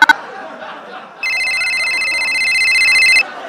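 A phone rings on a call being placed by speed dial, a loud steady electronic ringing tone of about two seconds following a brief voice, then cutting off.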